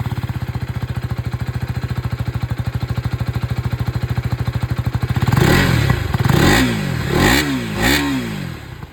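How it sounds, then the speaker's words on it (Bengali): A KTM Duke 250 motorcycle's exhaust idles with a steady, fast, even thump for several seconds, then the rider blips the throttle in a few sharp revs that rise and fall, loud and close. "আপনাদেরকে আমি এক্সস্ট সাউন্ডটা শুনে দিয়ে স্টার্ট করি উইথ ডিউক 250"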